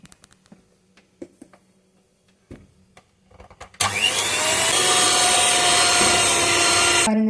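Electric hand mixer beating mango birthday cake batter, switching on after a few quiet handling knocks and then running in a loud, steady whir for several seconds.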